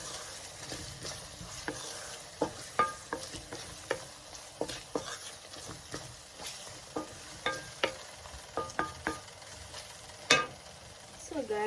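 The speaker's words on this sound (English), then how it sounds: "Mix everything in." Lentil curry being stirred in a pan with a spoon, a steady run of scraping and clinking strokes over a soft sizzle, fairly close and with no talking.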